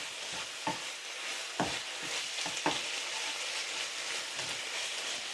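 Chili con carne ingredients fry and brown in a pan over raised heat, giving a steady, quiet sizzle with a few sharper stirring scrapes and clicks scattered through it.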